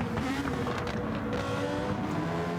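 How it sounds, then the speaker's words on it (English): Race car engines roar down the straight at Grand Valley Speedway, a steady loud droning blare with no break. "What a noise from both cars."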